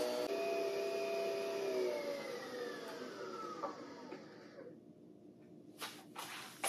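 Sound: Nespresso machine brewing coffee

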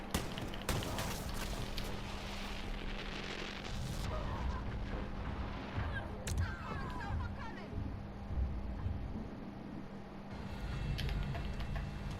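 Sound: gunfire shooting at boss, video game Wolfenstein: Youngblood

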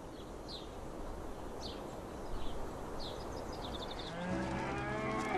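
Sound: water buffalo mooing

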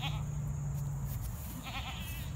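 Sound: donkey making noise

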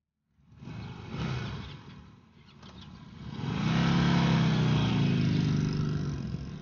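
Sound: engine being started and revved

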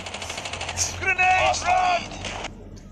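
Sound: gunfire in a video game

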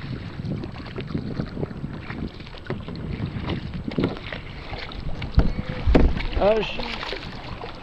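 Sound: kayak moving on water

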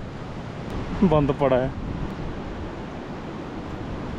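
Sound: mountain river flowing in Pangi Valley

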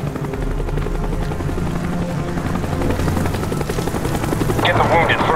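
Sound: helicopters arriving in video game Call of Duty: Black Ops

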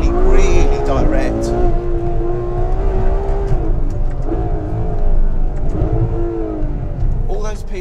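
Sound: Ferrari F12 Berlinetta engine accelerating through gear changes

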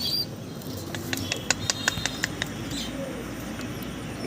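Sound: Rajshahi Giribaz pigeons cooing

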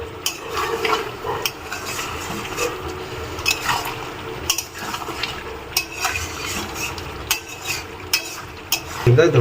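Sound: stir-frying chicken with yogurt and fried potatoes

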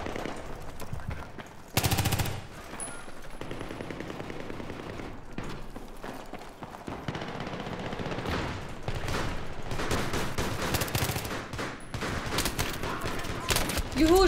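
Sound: gunfire in the video game Battlefield 3

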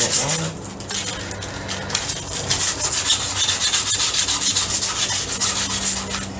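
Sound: sanding wood with sandpaper while building a canjo

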